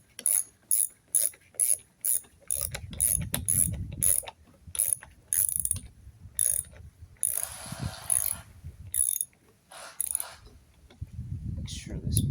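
A ratchet clicks in quick bursts while tightening a bolt on a 22-inch Toro mower wheel, close and crisp, with low rumbling handling noise and metal clinks between strokes.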